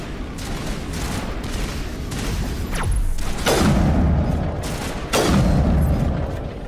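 Rapid gunfire and booming shots in the video game Mass Effect Legendary Edition, a dense continuous barrage with several heavy blasts over loud combat noise.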